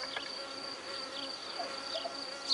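Honeybees from a queenless hive hum in a steady, moderate drone with a few brief rising buzzes from individual bees passing close.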